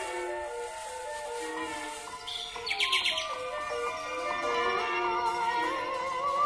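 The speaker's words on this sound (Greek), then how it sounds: "Ω Θεέ μου, τι όμορφο πουλάκι." Bird song for a nightingale in a radio play of Aristophanes' Birds: continuous, bright trilling and whistled chirps, fairly close and steady, with rising warbles and a brief sharp whistle burst midway, no voices over it.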